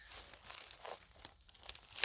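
A fresh porcini mushroom in a dry pine forest gives short, faint, crisp crunches and crackles as it is picked, close up and without talk.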